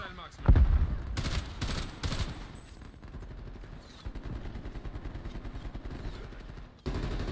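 Video game gunfire cracks out in quick bursts, loud and close, then settles into a steady rattling stream of rapid shots, with a player talking over it.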